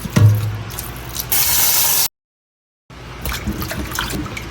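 Water sprays and trickles over cow foot and cow skin being washed in a kitchen, with a splashing burst, a steady stream, a brief dropout, and then more wet splashing and handling.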